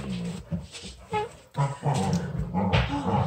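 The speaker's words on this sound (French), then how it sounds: "Mes chiens sont fatigants." Pet dogs growling and whimpering indoors in short uneven bursts, with low grumbles, whiny yelps and brief pauses between them, moderately close.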